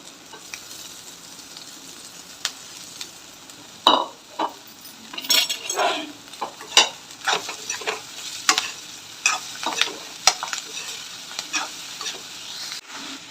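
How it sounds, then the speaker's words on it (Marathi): Chopped chiwali greens stirred into a pan of browned onion and turmeric, a steady low sizzle broken by a run of sharp spoon scrapes and clinks against the pan, close and alone. "भाजी टाकून मी चांगल्या प्रकारे मिक्स करून घेतलेली आहे"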